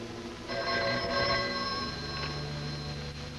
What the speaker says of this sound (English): I don't think the telephone bell is working. Will you test it?